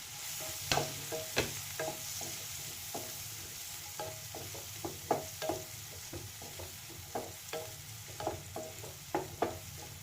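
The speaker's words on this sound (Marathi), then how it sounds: "कांदा चांगला लालसर होईपर्यंत आपण याला परतून घेणार आहोत." Chopped onion fries in a pan for pav bhaji with a constant sizzle. A spoon stirs it in irregular close scrapes and clinks, repeating every second or so without any voices.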